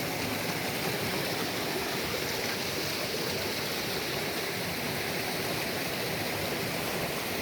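Water rushes steadily and loudly, a continuous broadband roar of a waterfall or fast stream with no pauses.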